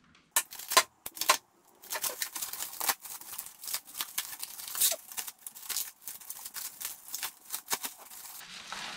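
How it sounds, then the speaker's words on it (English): Bag of hardware bolts, nuts, washers and small spacers for a Kawasaki Brute Force 750 A-arm lift being handled, with sharp metallic clinks and rattles in irregular clusters amid plastic bag rustling, close up and quiet. "Got a bag full of hardware, 2 little spacers, and some bolts, nuts, and washers."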